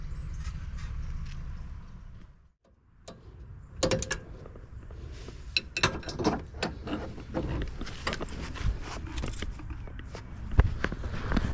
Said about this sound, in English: we're going to take the 14mm socket and place it here. And we're going to break these two bolts right here